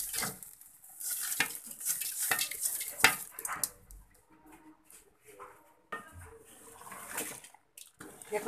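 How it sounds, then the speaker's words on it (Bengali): Chicken biryani is stirred in a pot: fried rice grains mixed into cooked meat, with irregular scraping and metal clanks in bursts, loud at times and then quieter for a few seconds. "এখন ভালো করে নেড়ে চেড়ে নিব।"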